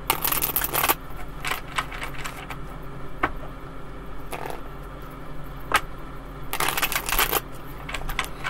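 Tarot cards are shuffled in several quick papery bursts separated by quieter handling noises, close and fairly clear.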